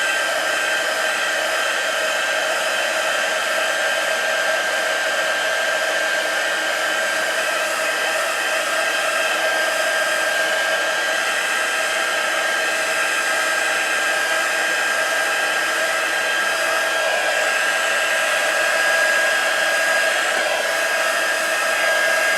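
A hair dryer runs steadily and loudly for the whole stretch with no pauses, drying a piece of card freshly painted to match a stencil medium.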